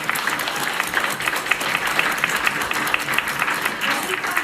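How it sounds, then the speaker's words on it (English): An audience at a conference panel applauds steadily and evenly for a colleague, a dense wash of clapping that holds at one level throughout. "Can we get a round of applause for Christina?"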